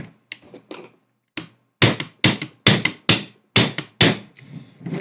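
Sharp, loud hammer taps drive a stubborn body pin into a G&P M4 airsoft rifle receiver, a few scattered knocks followed by a rapid series of about a dozen close metallic strikes.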